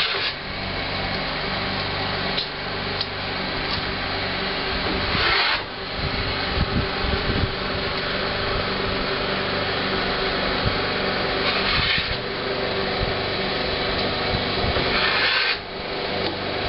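A power tool trims tongue and groove wood boards, running as a steady loud whine throughout with slight changes in tone as it cuts, close by, with no voices.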